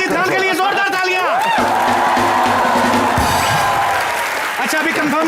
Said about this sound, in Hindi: ओरिजिनल साजिद खान के लिए जोरदार तालियां।